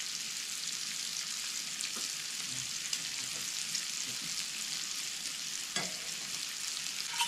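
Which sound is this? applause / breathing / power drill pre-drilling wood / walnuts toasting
walnuts toasting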